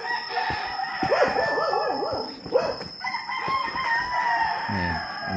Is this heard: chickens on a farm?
yes